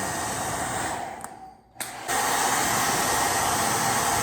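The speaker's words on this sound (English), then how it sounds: "effectively containing it within this low pressure stream from the blow dryer" A blow dryer blasts a steady, loud, roaring airstream that holds a ball suspended, briefly cutting out and dropping to near silence for under a second before roaring back at full strength.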